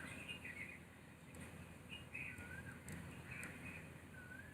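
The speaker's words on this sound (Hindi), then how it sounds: "पक्षियों की मधुर आवाज" Outdoor birds sing and chirp faintly in scattered short whistles and trills over a steady, quiet background hiss of open air.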